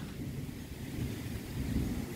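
Heavy rain pours down steadily with a low, rolling rumble of thunder beneath it, a dense and constant wash of sound heard from indoors with no voices.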